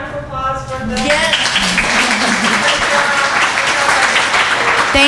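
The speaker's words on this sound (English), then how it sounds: "Let's have a round of applause for the..." Loud sustained applause from an audience at a women-in-cybersecurity panel discussion, dense clapping rising after a speaking voice and continuing steadily for several seconds with talk and cheers mixed in.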